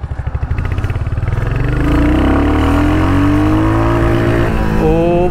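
Royal Enfield Hunter 350 motorcycle being ridden, its single-cylinder engine thumping in a pulsing rhythm, then rising in pitch as it accelerates; loud, close and steady throughout, with no talking.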